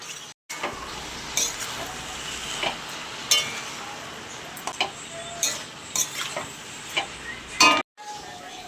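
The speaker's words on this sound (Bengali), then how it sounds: "চিংড়ি মাছটা দিয়ে সাথে ভালো করে মিশিয়ে আরও কিছুক্ষণ রান্না করে নেব" Prawns and shredded cabbage fry in a pan under a constant sizzle, with intermittent spatula scrapes and clinks against the metal as the mix is stirred, heard up close.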